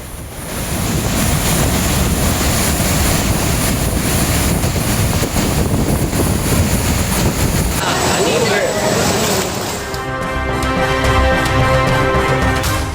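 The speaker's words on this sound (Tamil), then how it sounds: "தொடர் கனமழை காரணமாக குற்றால அருவிகளில் காட்டாற்று வெள்ளம்." A flash flood roars down the Courtallam waterfalls after continuous heavy rain, with reddish muddy water surging in a loud, unbroken rushing torrent that carries on throughout.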